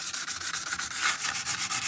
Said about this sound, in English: Well, at least I sandpapered it out.